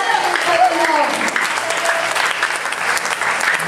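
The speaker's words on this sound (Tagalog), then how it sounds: "Isa pang malakas na palakpak sa ating Panginoon." A loud round of applause from a church congregation for the Lord, dense sustained clapping with a voice and crowd noise mixed underneath, close and energetic throughout.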